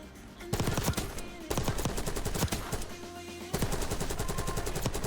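A Krig C assault rifle fires in a video game, three long sustained bursts of rapid automatic shots, loud and close, separated by brief pauses.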